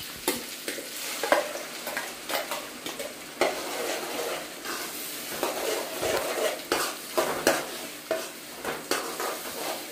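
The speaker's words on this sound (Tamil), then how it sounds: "நல்லா அந்த பச்சை வாசனை போற வரைக்கும் மிக்ஸ் பண்ணி விட்டுக்கலாம்" Ground masala paste fries in a pan for channa masala gravy while a spoon stirs it, scraping and clinking against the metal in irregular bursts over a steady sizzle.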